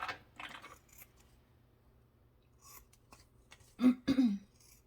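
Scissors snipping fabric corners on a sewn zip pouch: a few faint rustles early, then two close, crisp cuts near the end, with no talking.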